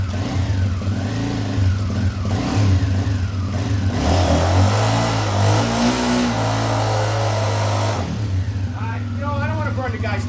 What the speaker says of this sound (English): Super smooth running bike.